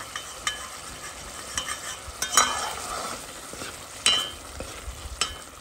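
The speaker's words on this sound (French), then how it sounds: "On va bien essayer de cuire encore un peu." Rougail boudin noir cooks in a pot with a soft steady sizzle, broken by a few sharp scrapes and clinks as a utensil stirs the food.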